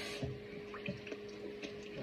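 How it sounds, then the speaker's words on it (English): Rinse water poured out of a bowl holding a washed whole chicken, a steady close splashing and trickling stream with a few soft drips, no talking. "now I'm going to pour out that rinse water"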